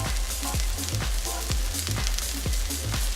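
A seasoned steak sizzles steadily in a hot pan just after being flipped, a dense continuous frying hiss with repeated small pops and spatters throughout.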